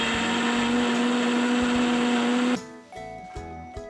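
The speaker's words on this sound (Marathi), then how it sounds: "मिक्सरमधून आपण ते जाडसर फिरवून घेऊ." Kitchen mixer grinder whirring at high speed as it coarsely grinds sweet corn kernels, a loud steady motor drone that cuts off abruptly, followed by a few rattling clunks of the jar settling.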